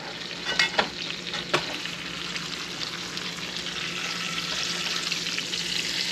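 A porterhouse steak sizzles in a pan as brown butter is spooned over it, a steady frying hiss with a few sharp splattering pops and spoon scrapes early on.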